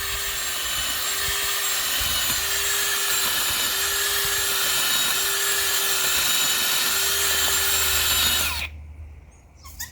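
A power drill fitted with a Vevor garden auger bit, model LXZTHS2IN4INRR7J4V0, boring into soil: a loud, steady high whine with a low hum for about eight seconds, then cutting off abruptly.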